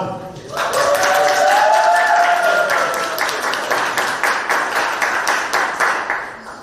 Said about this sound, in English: let's give a grand applause for finalist number 1